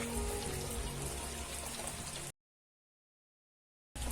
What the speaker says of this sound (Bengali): দেখতে পাচ্ছ এখন বৃষ্টি পড়ছে